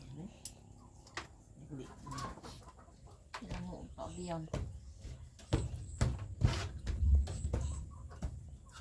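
Chickens cluck and murmur close by while people talk over them, with scattered knocks and rustling in the background.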